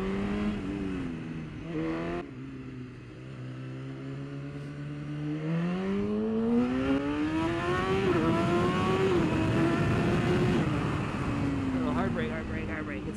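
A superbike on a track during qualifying, warming brand-new tires, its engine note rising and falling through gear changes as it accelerates, droning loud and close from an onboard position, with wind rush underneath.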